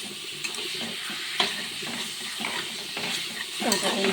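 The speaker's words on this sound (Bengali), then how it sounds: "সুন্দর করে নাড়াচাড়া করবো যতক্ষণ না চিকনটা একটু ভাজা ভাজা হয়" Chicken and boiled chickpeas are stir-fried in a pan, with a continuous close sizzle, scraping stirring strokes and a few sharper clinks along the way.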